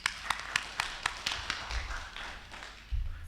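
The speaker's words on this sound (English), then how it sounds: "Please allow me and join me in applauding Action for his hard work." Audience applause for Action Amos in a conference session hall, heard as a series of sharp, fairly close claps in a loose rhythm that trail off, with a couple of low thumps.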